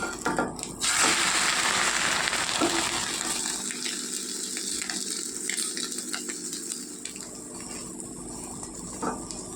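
A masala vegetable omelette frying in a pan over a medium flame hisses and sizzles steadily, loudest at first and then a softer continuous crackle, with no talk.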